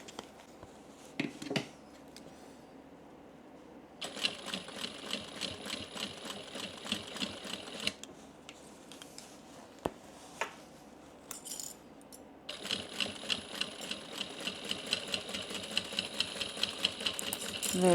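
Sewing machine running in bursts while stitching a make-up bag with a zipper, with a short backstitch; steady rapid whirring runs in two long stretches separated by a quieter pause with small handling clicks.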